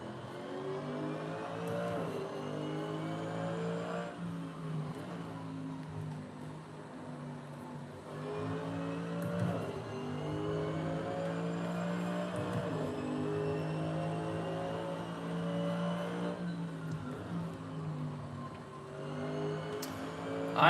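GT3 race car engine in the Assetto Corsa sim racing game, a sustained loud drone rising through the revs and dropping at gear shifts and braking, repeating through a practice session with no talking.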